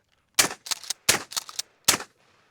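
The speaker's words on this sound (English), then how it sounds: "We're going to rip a few shots first just to, I mean, it's 12 gauge." A few 12 gauge shotgun shots fired in quick succession outdoors: five sharp, loud bursts, some doubled with a short echo tail, separated by brief gaps.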